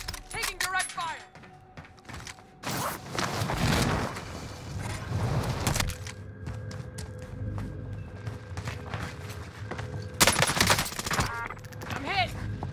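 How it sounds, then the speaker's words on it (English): Bursts of automatic gunfire and sharp shots ring out in Call of Duty on Rebirth Island, with the Ots9 SMG in use, in several loud clusters amid footsteps, game radio chatter and lighter background noise. "Taking direct fire."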